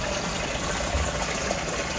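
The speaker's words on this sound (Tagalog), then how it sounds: "Nagpalit siya ng tubig." Water gushes and rushes steadily as it is changed in a koi fish pond, a continuous broadband wash at moderate level with no speech over it.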